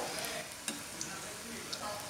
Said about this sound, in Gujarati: કચોરીને આપણે ગોલ્ડન બ્રાઉન તળીને તૈયાર કરીશું